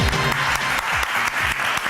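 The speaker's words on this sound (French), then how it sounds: "applaudissements pour les messagers" Loud, dense audience applause fills a TV talent show studio, steady clapping throughout with faint music or voices underneath.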